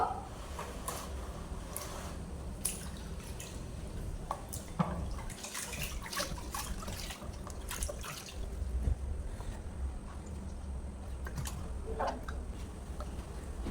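Water splashing and trickling while a new stone grinding slab (shil-nora) is rinsed in a basin, with intermittent clinks and knocks of stone against the container, moderately close and without talk.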